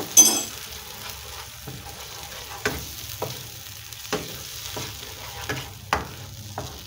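Egg curry with tomato paste is stirred in a sizzling pan, a spoon scraping and knocking against the pan roughly every second over a low, steady frying hiss.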